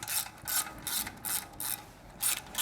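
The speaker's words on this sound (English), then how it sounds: "loosen the muffler clamp using a 10mm socket" A ratchet with a 10mm socket clicks in quick bursts as it loosens the muffler clamp on a Triumph Street Twin or Speed Twin motorcycle, with about seven short, close rattling pulls separated by brief pauses.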